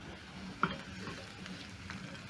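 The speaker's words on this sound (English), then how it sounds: "Cook the fries for around a minute, just to warm up the fries" Leftover seasoned fries and eggs frying together in a pan for chips mayai, giving a soft, steady sizzle with a sharp pop or stir clatter early on.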